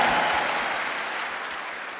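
An audience claps for Saint Rita in a dense, steady round of applause that fills the space from start to finish, slowly easing off, with no voices over it.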